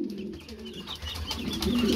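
Domestic pigeons cooing at a pigeon seller's stall, soft low throaty coos repeating close by over a dull room background, with no talking.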